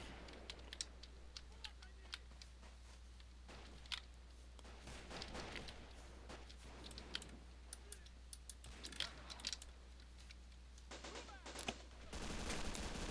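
Gunfire from Men of War: Assault Squad 2, a Robz Mod battle with Russian tanks and infantry: rapid, crackling volleys and scattered single shots keep going under a steady low hum, with a player's voice over the fighting.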